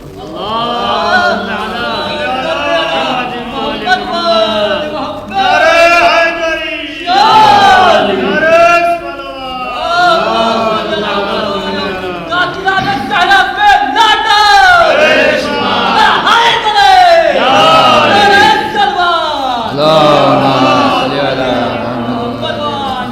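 Large gathering at a majlis chanting salawat together in loud unison, sustained voiced waves rising and falling over about twenty seconds with dense overlapping voices.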